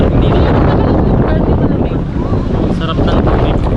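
Strong wind blows across a beach, roaring loudly into the microphone as a dense, continuous rush, with voices faintly mixed in beneath it.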